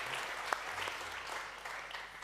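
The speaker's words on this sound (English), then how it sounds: "So please still applaud yourself." Audience at an insurance conference applauding, a soft, distant wash of steady clapping with one sharper clap standing out, faint throughout.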